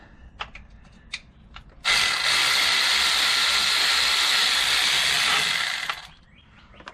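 Transmission oil from a 2006 Dodge Ram 1500 pours out of the tipped pan into a drain pan as a steady hiss-like splashing stream lasting about four seconds. A few faint clicks come before it, and it tails off at the end.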